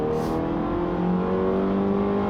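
A Fiat 500X crossover's sluggish four-cylinder engine revs slowly, a loud steady drone whose pitch rises gradually with no talking.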